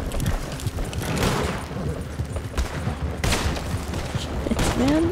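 Gunfire in the Western game Red Dead Redemption II: repeated shots and bursts crackle through a dense, steady battle din, with a voice speaking briefly near the end.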